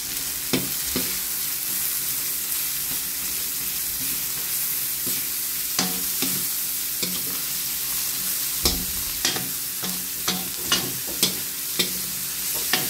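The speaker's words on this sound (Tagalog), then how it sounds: "Ayan po, magigisa na po tayo ng bawang" Garlic and onion sautéing in a pan for pinakbet, a steady sizzle broken by repeated scraping and clinks of a spatula stirring, with no talking.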